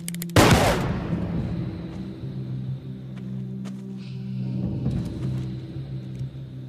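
A single loud gunshot cracks near the start, followed by a long rumbling echo and low, steady background hum.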